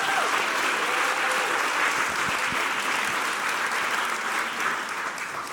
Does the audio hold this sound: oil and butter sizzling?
no